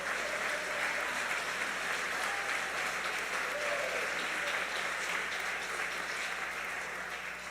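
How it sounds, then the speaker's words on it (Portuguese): A church congregation applauds steadily, a dense, even wash of many hands clapping throughout with no break, fairly loud and close, with no talk on top. "Se você quer aplaudir ao Senhor, aplauda."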